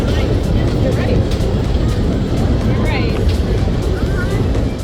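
A Wild Mouse roller coaster at Cedar Point runs with steady, loud rumbling and wind roar throughout, while people talk and shout over the ride.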